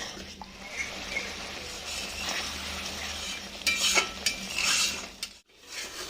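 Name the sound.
pointed gourd (potol) being sautéed with spices in a pan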